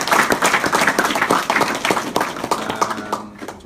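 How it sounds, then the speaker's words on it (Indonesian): An audience in an office mentoring session claps together at the close, a dense steady burst of applause lasting a few seconds, fairly near and without talk. "Tepuk tangan untuk kita semua."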